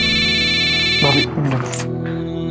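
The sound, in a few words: phone ringing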